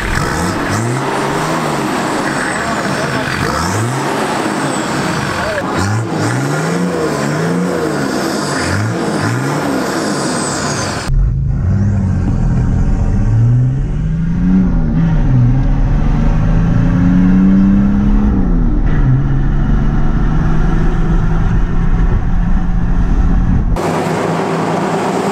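A 2003 Nissan Patrol GU with a TD42 turbo diesel revs hard in repeated rising and falling surges, then settles into a loud, steady, rumbling drone with wavering pitch, heard up close with no talking.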